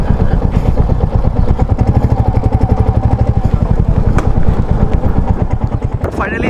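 A motorcycle engine throbs steadily and close up while riding a mountain road in the high Himalayan Spiti region between Kaza and Losar, with a continuous rhythmic pulse and occasional clatter and wind noise throughout.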